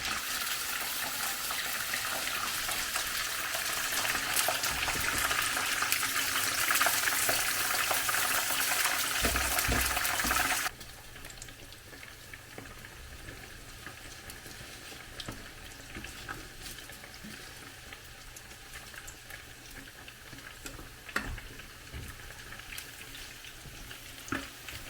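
Chicken pieces deep frying in hot oil give a steady, fairly loud sizzling crackle for the first ten seconds, then settle into a quieter, more uneven bubbling hiss with occasional clinks.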